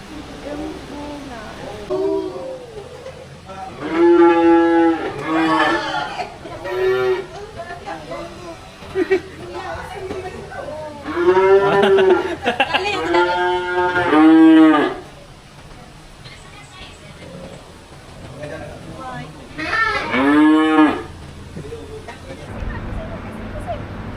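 Cattle at Kundasang in Sabah moo in several long, loud, close bellows with rising and falling pitch, separated by pauses, while people talk in between.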